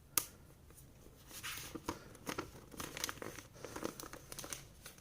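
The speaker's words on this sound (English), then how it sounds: "let's take this plastic off nice and quiet for us" Protective plastic film is peeled off a new OnePlus 7 Pro phone, giving close, quiet crinkling and crackling with small tearing snaps that come in uneven bursts.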